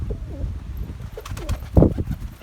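Pigeons coo softly nearby amid scuffling and pecking as they eat purslane, with a brief flutter of wings partway through.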